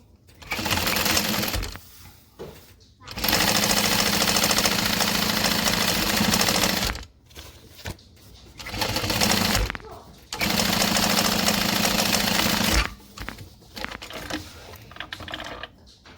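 A sewing machine top stitches a bag in long, loud, steady mechanical bursts of rapid needle chatter, stopping and starting several times with brief quiet gaps in between.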